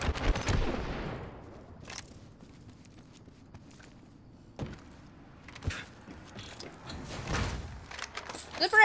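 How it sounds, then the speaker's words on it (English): Gunfire aimed at the player in the Apex Legends battle royale game comes as scattered sharp shots and impacts with mechanical clanks between quieter stretches, moderately loud, with intermittent voices in the background. "I'm taking fire."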